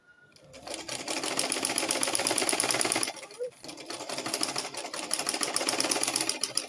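Close, loud whirring of a sewing machine stitching skin-illusion net along a deep neckline. It runs in two continuous stretches with a brief pause between them.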